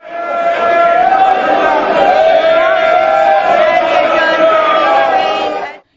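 Telangana MPs shouting pro-Telangana slogans in the well of India's parliament, a loud sustained chorus of massed voices yelling together throughout.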